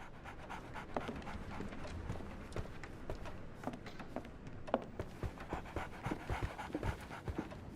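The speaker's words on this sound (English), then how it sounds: "So, Barnes has a dog now." A dog panting steadily up close, quick rhythmic breaths repeating throughout with light scuffing sounds mixed in and no speech.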